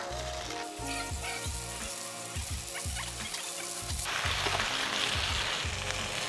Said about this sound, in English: So we're going to start by frying in our pieces.